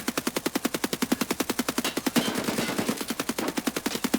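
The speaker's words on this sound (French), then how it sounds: "T'es toujours en train de tirer, gros, pour moi." Automatic gunfire in the game Escape From Tarkov, a rapid, evenly spaced stream of loud shots fired in long sustained bursts with a brief denser patch midway.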